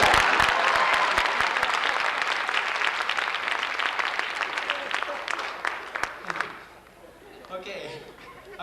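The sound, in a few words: audience applause at a folk festival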